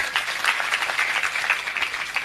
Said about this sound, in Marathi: एकदा त्यांच्यासाठी टाळ्या वाच